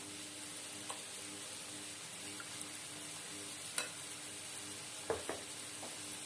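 A small test drop of vada pav batter hitting hot oil for deep-frying gives a faint, steady sizzle with a few sharp pops and crackles near the end, close by, with no talk.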